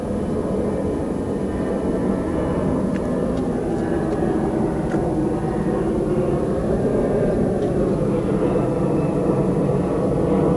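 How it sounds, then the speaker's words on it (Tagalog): A steady, broad engine roar from an airplane passing overhead fills the whole stretch at even loudness, heard outdoors on the water during a fishing trip on Manila Bay in the Philippines. "May aeroplano."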